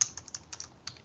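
A computer keyboard is tapped during Inkscape drawing-software use: a quick, irregular run of about seven sharp, close key clicks, pressed alone without talk.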